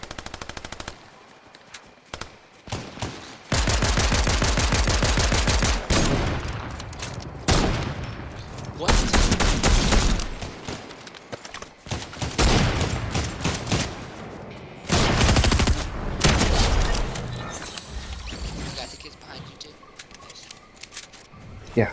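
Rapid bursts of pistol fire in a Fortnite match, loud and close, coming in repeated volleys with short gaps between clusters of shots, with a voice speaking intermittently over the action.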